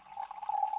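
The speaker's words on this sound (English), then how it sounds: "Let's pour it into this artist straw glass." Still cider, a Yarlington Mill apple cider, trickles from a bottle into a glass in a short, soft, steady pour heard up close.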